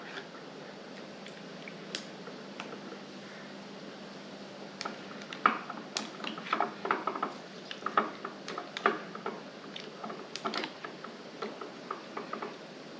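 A stirring stick clicks and taps against glass jars packed with canned beets, a quiet irregular series of light ticks that grows busier partway through, in a calm kitchen.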